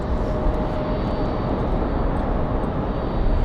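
Aer Lingus airliner arriving at RDU, Raleigh-Durham International Airport, on a windy day: a steady, loud, broad jet roar that holds level throughout, with wind buffeting mixed in.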